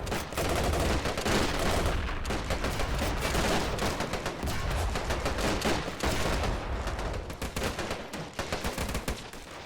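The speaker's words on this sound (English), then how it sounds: "Vickers machine gun as well, firing at the German troops attacking the left flank" Vickers machine gun fire rattles in a World War II video game battle, Australians holding a desert line against an Afrika Korps attack. Dense, loud, continuous bursts of automatic fire mix with other gunshots for the whole stretch, with no talk.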